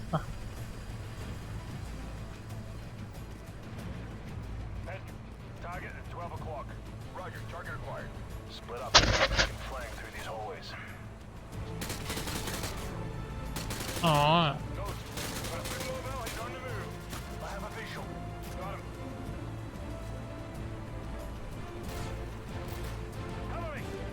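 Gunfire in the shooter game Call of Duty: Modern Warfare 2, with scattered shots and bursts over a steady game soundscape, one loud sharp blast standing out midway and a louder flurry shortly after.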